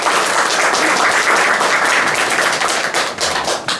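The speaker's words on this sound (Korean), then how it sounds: "큰 박수로 맞아주시기 바랍니다" Loud, dense applause from an audience welcoming a speaker to a lecture on international order and Korean reunification economics, continuous clapping that thins into a few scattered claps near the end.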